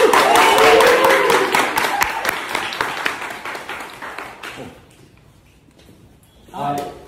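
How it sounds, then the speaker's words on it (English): Audience applause at an author conversation event, loud and dense for about four seconds, then thinning into scattered claps and fading, with a brief burst of voices near the end. "let's have a round of applause for our boys,"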